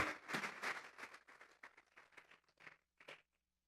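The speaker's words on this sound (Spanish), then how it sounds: "Vamos a regalarle ofrenda de palmas al Dios de la gloria" A church congregation claps as an offering of applause to God, a dense burst of hand claps that thins into scattered, quieter claps before stopping.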